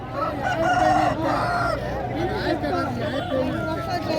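Several aseel roosters crow at a busy poultry market, their long drawn-out calls overlapping amid clucking hens and a steady babble of people talking nearby.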